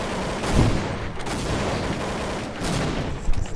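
Bursts of gunfire in Counter-Strike 1.6, with a few sharp reports and rattling shots over a steady game background, punctuated by heavier booms near the start and end.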